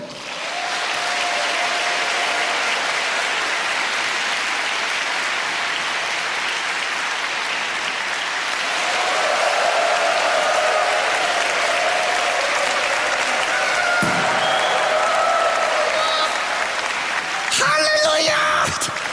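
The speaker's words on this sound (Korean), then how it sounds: "큰 박수로 맞이해 주시면 되겠습니다" Sustained applause from a church prayer-meeting congregation welcoming a speaker to the stage. It is loud and continuous throughout, swelling slightly about halfway.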